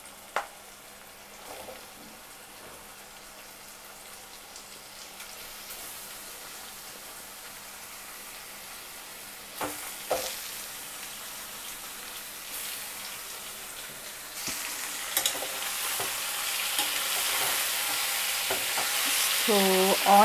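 Half a kilogram of fresh bone-in mutton fries with onions in a pan, sizzling softly with intermittent stirring scrapes that grow louder and denser toward the end.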